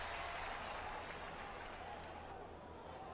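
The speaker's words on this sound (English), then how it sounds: "A mock cheer goes up at Comiskey" A simulated ballpark crowd at Comiskey in a baseball video game gives a mock cheer, a sustained, moderately faint roar of applause that slowly tapers.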